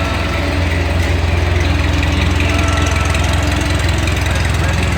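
An antique Ford 8N tractor engine running loud and close in a steady, low chugging idle, with a fan hitting its shroud adding a rapid rattling vibration throughout.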